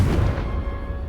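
A Confringo spell cast in Hogwarts Legacy, a short blast that booms low at once and then fades quickly under a faint lingering hum.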